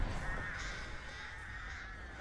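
Crows summoned by the Artist killer in the video game Dead by Daylight caw loudly over a steady game background, with a dense cawing burst at the start that carries on through the short stretch.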